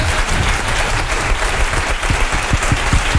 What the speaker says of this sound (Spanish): A esta mujer hay que darle un aplauso